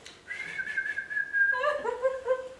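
A person whistles a short melodic phrase, first one long sustained high note, then a lower wavering run of notes. The whistle is close and clear, with no speech over it.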